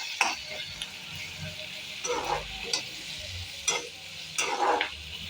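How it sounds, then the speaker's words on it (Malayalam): Fried idli pieces with chaat masala are stirred in a pan, giving a few separate bursts of scraping and rustling against the metal over a soft background sizzle, fairly close and moderately loud. "ചാറ്റ് മസാല ഇട്ട് കൊടുത്തിട്ടുണ്ട് ഇളക്കി കൊടുക്കാം"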